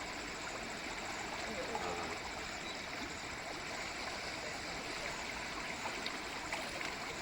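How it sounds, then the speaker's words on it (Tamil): A river runs forcefully in a steady, dense broadband rush that stays loud and unbroken throughout, with no pauses or distinct events. "இங்கே பயங்கரமாக தண்ணி ஃபோர்ஸாக ஓடிக்கிட்டு இருக்கு."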